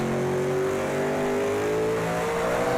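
Race car in Project CARS 2 with a drift mod, its engine holding a steady loud high-rev drone with shifting harmonics through a fast right-hand corner before the handbrake, heard alone without talk.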